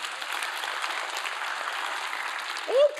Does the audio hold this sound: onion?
no